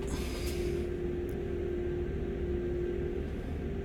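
Heavy freight train of about 2,000 tons hauled by a BR 185.2 electric locomotive on the Main Spessart line in Train Sim World, rolling with a steady low rumble, constant and fairly loud with a faint tonal hum, no talk.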